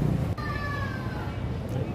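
A cat near a parked car in an office parking area gives one drawn-out meow, clear and close, over a steady background hum of the surroundings.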